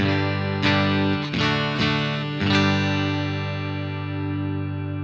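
Electric guitar played through a Two Notes Revolt pedal on its clean channel: a few struck chords ring out bright and sustained, each attack crisp, then left to decay alone without talk.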